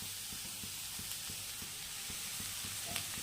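Grated carrot frying in ghee over a very low gas flame for village-style gajar halwa, a steady soft sizzle with regular faint stirring scrapes throughout, no voices.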